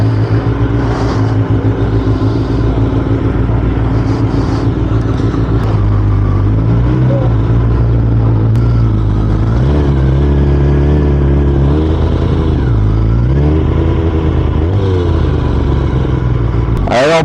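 A Kawasaki ZX-10RR sportbike engine, loud and close, rising and falling through several throttle pulls with shifting pitch and a gritty mechanical rasp, a voice occasionally heard over it.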